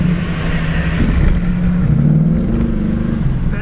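A 1934 Ford car accelerating in passing gear, its engine droning loudly from inside the cabin and rising in pitch as it pulls, steady and continuous with no talking.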